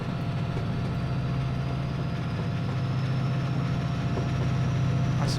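A BR Class 68 diesel locomotive in a train simulator game idles with a steady low engine drone and throb, loud and continuous throughout with no other sounds.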